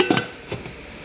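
A lid set onto a cooking pot holding vegetables such as okra, bitter gourd, leaves and green chili: a bright metallic clank with a short rattle, then a lighter clink as it settles, close and alone.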